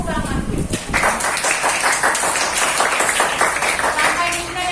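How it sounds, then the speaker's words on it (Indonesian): Students in a classroom clap their hands together, a brisk run of fairly close clapping that starts after a brief voice and carries on at an even level, with some chatter mixed in. "Tepuk tangan."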